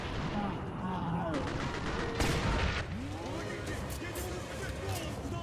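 Rapid gunfire from the video game Singularity, bursts of shots and booms close up, with voices and game sounds mixed underneath.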